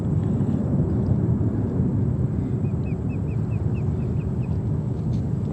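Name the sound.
Airbus A350-900 arriving from Rome at JFK Airport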